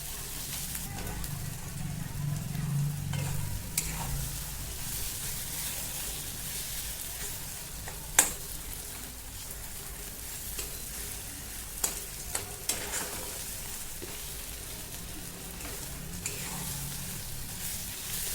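Green chillies roasting in a pan over a low gas flame, a steady soft sizzle throughout with a few sharp clinks of a utensil.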